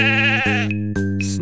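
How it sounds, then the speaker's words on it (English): A sheep bleats loudly and close, a wavering drawn-out baa followed by a second shorter bleat in a children's song. "Sheep, sheep."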